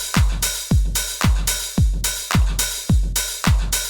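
Roland TR-909 drum pattern at 120 BPM: a booming kick on every beat with sizzling open hi-hats and claps layered in, steady four-on-the-floor rhythm, loud and alone.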